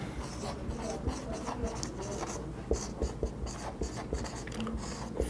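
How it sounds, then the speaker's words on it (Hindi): Chalk or marker scratching across a board during a physics lecture, a steady run of short strokes and taps close by, with no talk over it. "तो मैं यहां पे इसका सेकंड फ्रंटियर्स लिखता हूं।"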